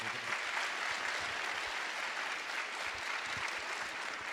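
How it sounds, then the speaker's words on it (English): Sustained applause from a large audience at the PennApps XV hackathon closing ceremony, a dense steady wash of many hands clapping at even loudness throughout, with no speech over it. "So one last huge round of applause for everyone who put this event together."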